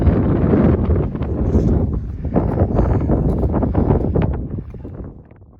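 Steady wind buffeting the microphone ahead of an incoming storm in the Sierra Nevada near Benton Hot Springs, a loud continuous rush that eases slightly toward the end.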